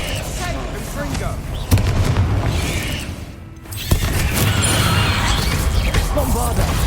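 Hogwarts Legacy spellcasting, with sharp blasts and booming impacts as spells land amid dense, loud combat noise, while a voice shouts spell names over it.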